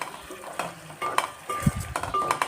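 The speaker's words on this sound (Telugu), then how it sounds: "ఇప్పుడు కలుపుకొని 1 నిమిషం పాటు కుక్ చేసుకుందాము" Gongura leaves stirred in a pan with cumin, fenugreek and coriander powder for Telangana-style gongura pachadi, with a ladle scraping and clinking against the pan in uneven strokes over a soft sizzle, close, with no talking.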